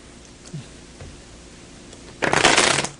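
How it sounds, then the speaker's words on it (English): A new deck of ordinary playing cards is shuffled close by: a couple of soft taps, then a dense, loud riffling burst of cards lasting under a second. "Would you shuffle the cards for me, please?"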